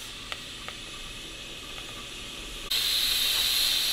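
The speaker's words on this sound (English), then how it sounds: "Got some steam coming out here." Steam hisses from an All American stovetop autoclave sterilizer as a steady, close, broadband rush that suddenly grows much louder and sharper for the final second.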